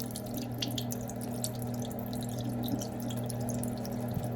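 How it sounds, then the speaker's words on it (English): Clear water drains and trickles out of freshly washed okra in a steady dripping stream, close and continuous over a low background hum. "Now it's water coming out."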